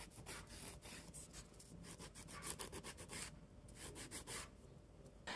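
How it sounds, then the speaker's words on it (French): A nail file rasps back and forth across fingernails during a manicure, producing a steady series of close, scratchy strokes with short pauses between passes. "Je vais limer un petit peu"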